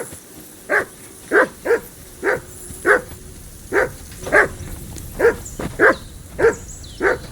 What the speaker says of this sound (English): Call off that damn dog before he wolfs down the last of our mates.